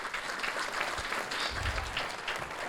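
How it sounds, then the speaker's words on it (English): An audience gives a round of applause for sponsors at an evening event, a dense continuous patter of many hands clapping at an even, moderate level. "So let's give them a round of applause."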